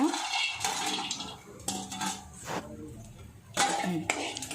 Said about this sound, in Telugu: నెయ్యి కరగగానే జీడిపప్పు వేసుకోవాలన్నమాట.